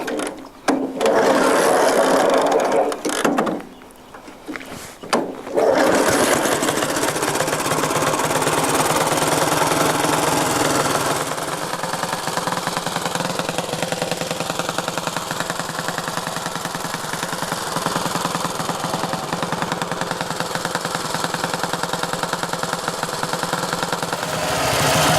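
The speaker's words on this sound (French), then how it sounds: "Ce moteur 250 Jap, c'est un moteur à cylindre borgne" A single-cylinder JAP 250 motorcycle engine with a non-detachable cylinder head fires up after brief cranking and then runs steadily with a rapid, loud mechanical chatter, close by and with no talk.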